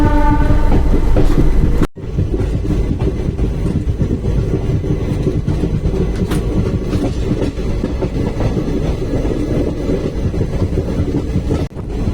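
The Chennai Egmore Superfast Express runs at night from Salem, giving a loud, continuous rumble and rattle of rail cars with a brief dropout near the start.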